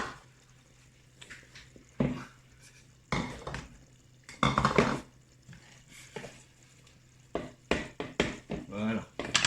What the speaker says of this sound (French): Mettez un peu de sel dessus et vous mélangez.